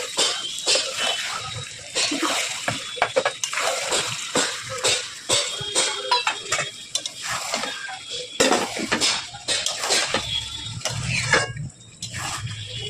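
Chicken pieces go into fried spiced masala in a cooking pot for a chicken curry, with repeated metallic clatters and scrapes of a spoon against the pot and wet, sputtering sounds throughout.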